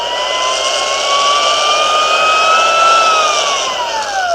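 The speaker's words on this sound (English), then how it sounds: "As a blower, you can use that to blow onto the fire to get a good fire started." A small rechargeable USB-C blower from a camping fire-starting kit runs steadily, giving a loud, close, high whine whose pitch rises slightly and then falls toward the end, with no talking.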